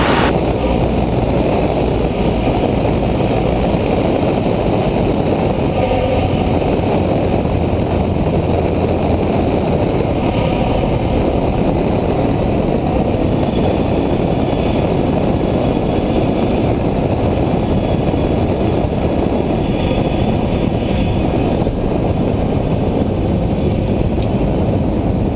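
Steady drone of a Cessna 172 SP light aircraft engine and propeller on a landing approach, continuous and loud with a faint rumbling cabin wash throughout, no voices.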